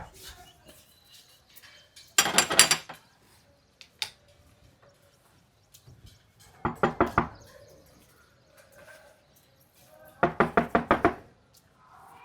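Knocking on a door, three separate bursts of rapid loud raps spaced a few seconds apart, close by, with faint talk and room noise in the quiet stretches between.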